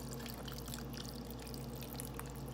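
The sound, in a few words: water being poured into a Rapid Ramen cooker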